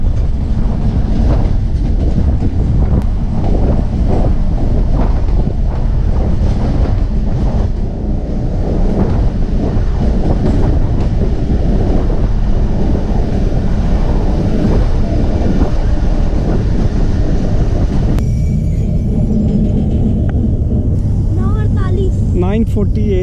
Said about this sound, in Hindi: हमारी गाड़ी फकीराबाद रेलवे स्टेशन में पहुंची है।